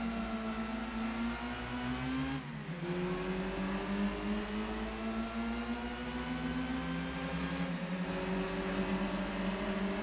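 Small hatchback engines of a Citroen Saxo and Peugeot 106 drone in Gran Turismo 2, a steady buzzing hum that climbs in pitch, dips sharply with a gear change, then climbs again, loud and continuous.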